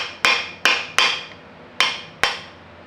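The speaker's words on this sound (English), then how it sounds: "Hit it with a hammer." Five sharp hammer blows ring out at irregular intervals, each with a short metallic decay, as welch plugs are knocked out of an RB26 engine block. The strikes are close and loud, with no talking.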